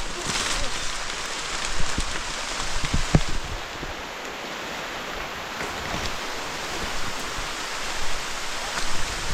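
Steady rain falls on a forest, a dense even hiss of drops on leaves and ground that stays close and unbroken, with a few louder patters and a faint voice now and then.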